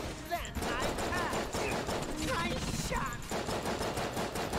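Rapid pistol fire from a Makarov in the video game Enter the Gungeon, quick popping shots in a dense rhythm under a speaking voice, mixed with chirpy game effects.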